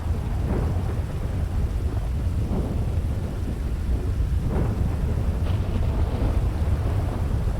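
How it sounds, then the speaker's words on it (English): Rain and thunder in a 15-year-old video game: a dense, constant downpour with low rolling rumbles swelling and fading beneath it, and no voices. "Sometimes I just like standing in the rain."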